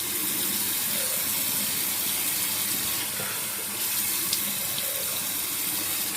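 A bathroom tap runs steadily to rinse a shavette razor between shaving passes, giving a continuous close gush of water with no pauses.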